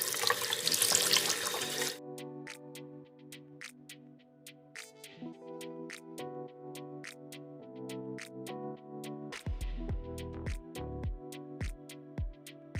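Tap water splashes into a bathroom sink for a couple of seconds as a face is washed with Dr. Brandt Pores No More cleanser, followed by soft background music with light clicks.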